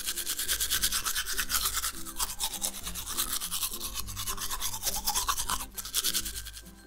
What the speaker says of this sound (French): Et on va utiliser ta brosse à dents